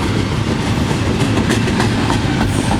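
Very long Norfolk Southern intermodal freight train passing at Cooke Road, a loud, continuous rumble and roar of cars rolling close by with steady rhythmic wheel clatter and no talking.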